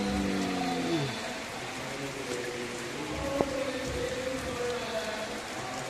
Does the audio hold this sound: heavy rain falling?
yes